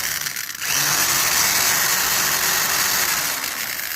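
An old electric hand drill from around the 1960s runs steadily after a brief start, its motor whine loud and close with a bright high-pitched buzz throughout.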